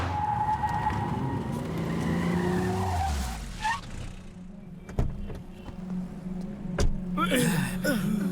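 A car skids to a stop in a Hindi-dubbed South Indian action film scene, a long tire screech sweeping downward, followed by sharp thuds and door sounds.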